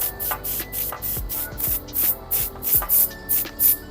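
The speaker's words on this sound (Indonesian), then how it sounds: "Kita semprot biar kering." Short bursts of a spray bottle misting glue to dry it on an aquascape layout, about a dozen quick hissing puffs in an uneven rhythm, close and fairly loud, with no voices.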